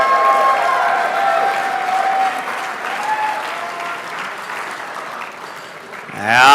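Audience at an RC racing world championship awards banquet applauding, a sustained roomy wave of clapping with faint cheers and a tonal whine running underneath, easing slightly before swelling again at the end.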